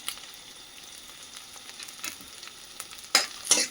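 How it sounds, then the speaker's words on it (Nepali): Onions frying with ground garlic and ginger sizzle softly in a pan, with faint crackling and a few sharp stirring scrapes near the end. "प्याज फ्राई गरिसकेपछि हल्का रातो भएपछि त्यहाँदेखि तपाईँको लसुन र अदुवा पिनेको लगाइन्छन्"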